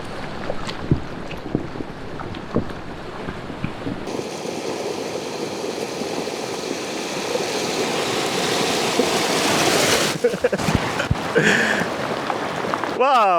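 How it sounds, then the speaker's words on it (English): A flash flood roars through a dry riverbed in the Namibian desert, its dirty water carrying wood. The loud, continuous rush swells midway, with wind buffeting and scattered knocks and thuds. "Angry water."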